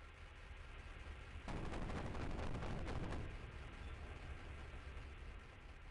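A burst of aircraft cannon fire in a flight combat game, a dense rapid stutter lasting under two seconds, loud over a steady engine drone that continues afterward.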